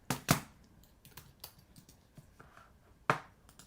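Typing on a computer keyboard, irregular bursts of close, crisp key clicks with a few louder strikes, no one speaking.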